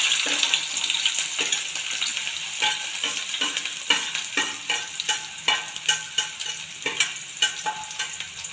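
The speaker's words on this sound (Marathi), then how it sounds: "कांदा चांगला परतून घ्यायचा आहे, त्याला कलर येईपर्यंत." Onion sautéing in oil in a pan alongside tomato, a steady close sizzle broken by repeated scraping stirs of a spoon against the pan, roughly one every second.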